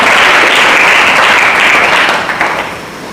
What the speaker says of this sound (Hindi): ताली बजाकर प्रभु की महिमा करें